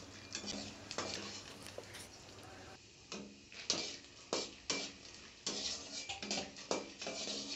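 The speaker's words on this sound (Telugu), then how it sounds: "నేను 100 గ్రాములు వేరుశనగపప్పు తీసుకున్నానండి. బాగా కలర్ మారేంత వరకు వేంపుకొని" Peanuts, 100 grams, dry-roasted and stirred in a pan until they change colour, giving close scraping and rattling stir strokes in an uneven rhythm with light sizzle between them, no talk.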